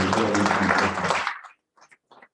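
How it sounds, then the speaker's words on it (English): Audience applause for a speaker at a tax appeal tribunal event, a dense steady round of clapping that fades out after about a second and a half, followed by a few faint scattered sounds. "I believe that Mr. Kwanjubola deserves our round of applause."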